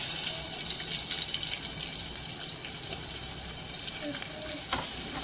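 Onions frying in a pan for a Telangana-style meal maker curry, a steady close sizzle and hiss running throughout with a few soft clinks of stirring.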